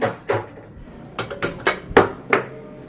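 Boiled potato mashed by hand in a metal bowl, producing sharp, close clanks and knocks in an uneven rhythm of about seven strikes, with no talking.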